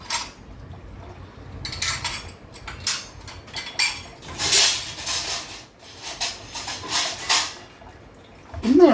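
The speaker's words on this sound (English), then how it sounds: "we'll wash some 1/4 cup of moong dal" Quarter cup of moong dal is swished and rinsed in water in a vessel, with splashing, sloshing and the clink of a metal pot, close and moderately loud with irregular surges.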